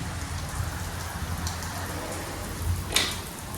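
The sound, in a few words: heavy rain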